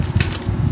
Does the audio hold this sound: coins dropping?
yes